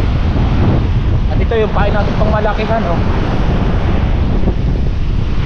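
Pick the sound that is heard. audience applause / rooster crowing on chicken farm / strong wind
strong wind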